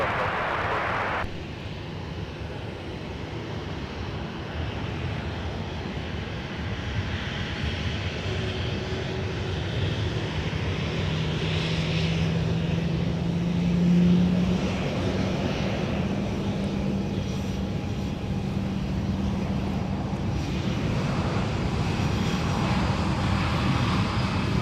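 A Prime Air cargo plane taxiing at Minneapolis–St. Paul airport, its engines giving a steady loud roar that swells slightly mid-way, heard alone without talk.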